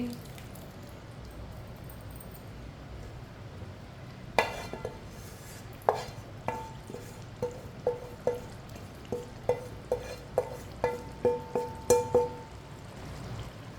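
A spoon stirs an onion, garlic and spice mix in a pan for black chickpea curry, giving a run of soft, evenly spaced scrapes and clinks, close and moderately loud over a quiet background, with no talk.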